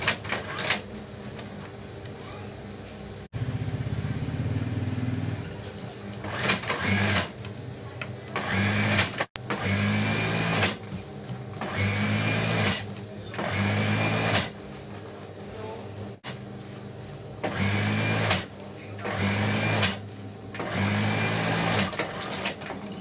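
A sewing machine stitches along the zipper edge of a duvet cover in repeated runs of steady, fast motor whirring, separated by brief pauses, close and continuous.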